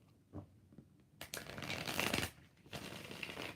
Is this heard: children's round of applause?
no